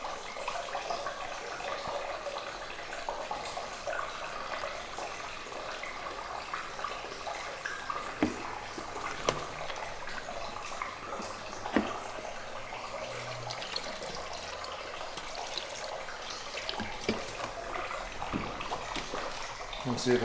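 Coolant-flush water pours steadily from a Kawasaki ZX6R into a bucket, a continuous splashing trickle that carries on throughout with a few louder drips and knocks.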